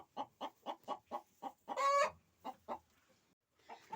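Frightened hens cluck in a quick run of sharp, evenly spaced calls, with one longer squawk in the middle, fairly faint and close, then a few more clucks after a short pause.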